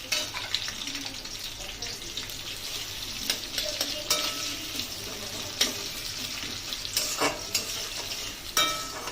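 Chopped onions with a little salt fry in a pan for a Bengali crab malaicurry, giving a steady close sizzle broken by clinking stirring strokes and brief scrapes, with no talking.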